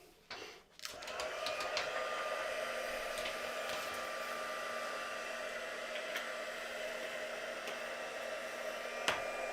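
A hair dryer blows steadily on a mixed media artwork, a constant close whirring roar that kicks in after a brief start and runs unbroken for about nine seconds with a small click near the end.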